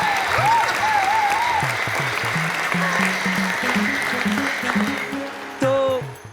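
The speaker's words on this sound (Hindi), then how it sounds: "तालियां बजा दो" Studio audience applause on a Hindi TV sitcom stage, a broad clapping wash with a music sting and tonal swoops layered over it, ending in a louder brief burst.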